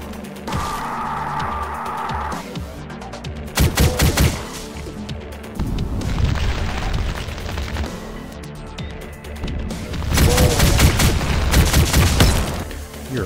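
Gunfire from the video game Astral Abstraction, heavy bursts of shots and booming impacts in several loud clusters, with rattling mechanical clatter between volleys.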